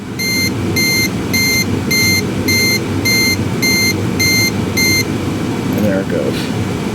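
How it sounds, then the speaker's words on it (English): A PC water cooler alarm sounds after its pump is stopped: nine evenly spaced high electronic beeps ring over a steady fan hum, then stop, followed by faint clicks. "So if I stop it, the alarm goes off."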